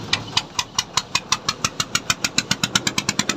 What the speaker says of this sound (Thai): เสียงท่อ